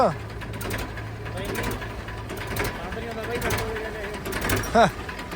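A Sonalika 750 tractor engine runs at idle with a rhythmic mechanical clatter. Voices talk over it, and a brief squeal sounds near the end.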